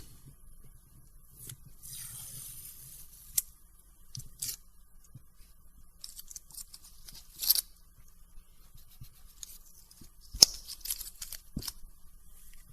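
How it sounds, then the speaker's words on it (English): Masking tape peels off a finished watercolor painting of Japanese magnolias in quiet, intermittent scratchy rips and rubbing bursts, a few louder pulls standing out against near-silence, with no voices. "Let's pull the tape and see how it turned out."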